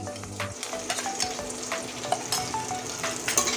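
Cumin paste and chili paste fry together in a pan of oil for a Bengali egg curry, giving a continuous close sizzle with scattered sharp crackles and no talking.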